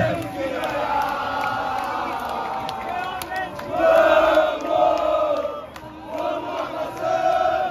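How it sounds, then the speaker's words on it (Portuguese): Água Santa football fans arrive before a match, a crowd chanting and shouting in rising and falling waves that sound fairly near, with a voice talking over the noise. "Ó a torcida do Água Santa chegando"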